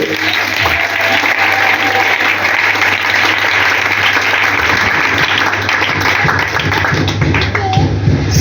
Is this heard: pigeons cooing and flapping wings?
no